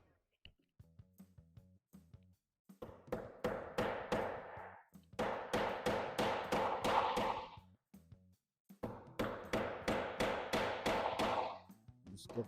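A hammer drives threaded inserts into countersunk holes in a wooden guitar jig, with sharp, close taps delivered in three rapid bursts separated by brief pauses.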